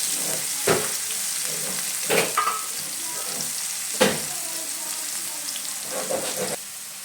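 Two large finely chopped onions fry in a pan for a soybean curry, a steady sizzle broken by several sharp stirring scrapes, close and fairly loud with no talk.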